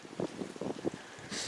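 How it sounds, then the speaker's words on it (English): Gusty winter wind outside an off-grid cabin, rough blustery rushes buffeting the microphone in short surges with a brighter hiss of air at the end. "It's windy, but beautiful."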